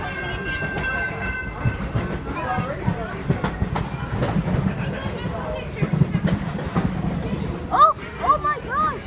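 Great Smoky Mountain Railroad excursion train rolling through the Nantahala Gorge as it slows, with steady rumble and wheel clatter, a few squeals near the end, and people talking excitedly over it.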